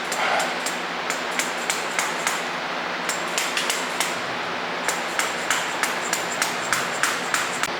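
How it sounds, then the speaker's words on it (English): Sharp, regular taps of a worn rubber hammer seating a rear main seal on a Subaru EJ25 engine, in short bursts with brief pauses, fairly close and crisp with no talking. "my rubber hammer's definitely seen better days."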